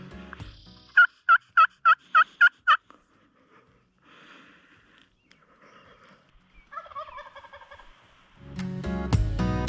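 A wild turkey gobbles in a rapid burst of six loud, evenly spaced calls during a spring hunt near Bend, Oregon, followed by softer clucking calls and then a rustle of movement.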